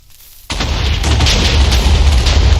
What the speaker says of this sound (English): Eight explosions.